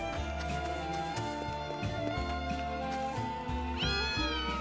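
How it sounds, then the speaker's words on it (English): A cat meows in the Triangle Strategy video game, heard over a steady, loud orchestral music bed, with a rising tonal cry near the end. "Cat."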